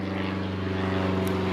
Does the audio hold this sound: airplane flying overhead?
yes